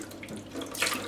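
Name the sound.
water running while washing and rinsing a Lexan RC body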